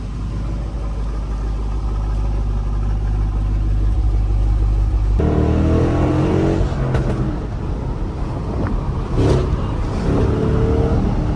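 A Chevrolet SS sedan idling after a manual transmission swap, heard as a loud, close, steady low rumble that shifts to a rougher, busier tone partway through, with no clear speech.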